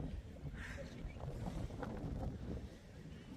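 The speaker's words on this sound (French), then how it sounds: "il y a du vent là, ça se lève." Gusty wind buffets a microphone outdoors in Lille, a low, steady rumble with a rushing noise that swells and eases, and no talk over it.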